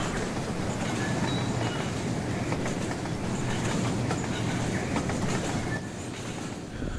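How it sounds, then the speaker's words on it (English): A model train rolls along inside the video game Rolling Line, giving a steady rumble with rhythmic clickety-clack of wheels over track joints, moderately loud and continuous, with no talk. "So as you can see, you can drive your train, physically drive your train"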